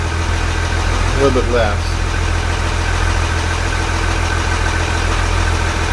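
A trawler's inboard engine idles at about 800 RPM in a steady, loud, low throbbing drone with an even pulse throughout, while someone speaks briefly over it.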